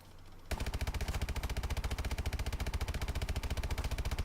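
Rapid automatic gunfire from the Call of Duty Exo Survival video game erupts after a short quiet lead-in, a dense, even burst of shots continuing steadily at high volume with no talking.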